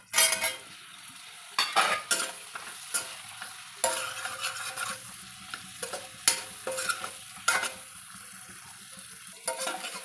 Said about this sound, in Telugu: పన్నీర్ మంచిగా వేగింది కదా